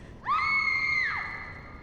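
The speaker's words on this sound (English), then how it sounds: "You hear your protagonist, your doppelganger, screaming" In the Shadows of Rose expansion of the Resident Evil Village video game, a doppelganger of the protagonist lets out a single loud, sustained scream that rises sharply, holds for about a second, then drops away into a quiet ambient background.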